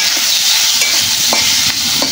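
Potatoes are stir-fried in a pan for aloo bhaji, with a constant close sizzle and several sharp scraping strokes of the spatula at irregular intervals.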